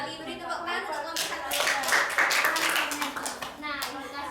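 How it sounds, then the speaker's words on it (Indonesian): Classroom students clap for a group in a brisk, ragged burst that swells in the middle, with children's voices chattering over and around it. "beri tepuk tangan untuk kelompok"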